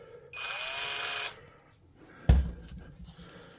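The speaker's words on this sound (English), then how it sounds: "makes it a lot easier to drill into this cheapy plastic" A power drill whines briefly into cheap plastic for about a second, followed by a sharp knock and some handling clatter at close range.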